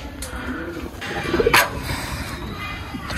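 Caged pigeons cooing close by, a few soft throaty coos over a steady background rumble, with a voice speaking briefly.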